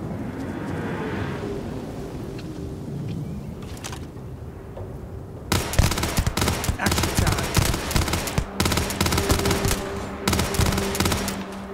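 Gunfire in the Starfield video game, a sustained burst of rapid automatic shots erupting halfway through and continuing in loud, dense volleys with brief pauses, after a quieter stretch of ambience and a voice.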